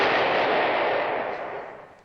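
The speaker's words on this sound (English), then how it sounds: "I just put a firecracker in the goldfish bowl" A firecracker goes off inside a goldfish bowl, a loud broad blast already under way that rings and slowly fades over about two seconds.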